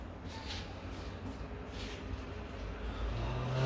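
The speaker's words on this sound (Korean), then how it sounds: "지금 밖에는 퇴근하는 차들의 행렬이 아주 많습니다" Steady, continuous rush-hour road traffic rumbles outside, a dense wash of passing cars with a low engine drone rising toward the end.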